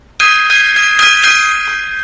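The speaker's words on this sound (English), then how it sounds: "Gong time." A gong struck once rings out loud and close with a bright, sustained metallic tone that shimmers and pulses as it slowly decays, no talk over it.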